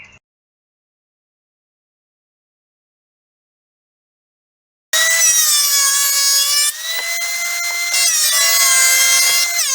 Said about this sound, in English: I'm going to mark it to a rough length and cut myself 2 pieces off of it